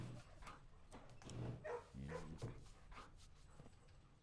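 Puppy in the video game Blue Prince giving soft barks and whimpers, several short yips scattered over a muffled background with faint talk.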